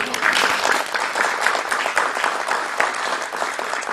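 Dense crowd applause for a senator at a vice-presidential campaign event at a farm and fleet distribution site, loud and steady throughout.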